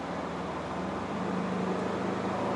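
A Ford Raptor 2.0 diesel engine revs up and holds its revs, giving a steady, close, droning roar with a low rumble that lifts slightly partway through.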